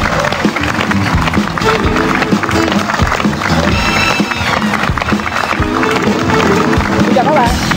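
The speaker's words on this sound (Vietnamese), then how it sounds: "chúng ta hãy dành cho bạn thí sinh của ngày hôm nay một tràng pháo tay cổ vũ thật nhiệt liệt" A studio audience on a 2007 Vietnamese HTV7 TV quiz show applauds the day's contestant. The clapping is loud and continuous, with crowd noise and some cheering mixed in.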